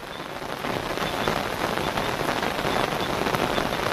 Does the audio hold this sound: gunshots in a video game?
no